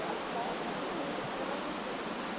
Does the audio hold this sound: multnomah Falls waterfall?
yes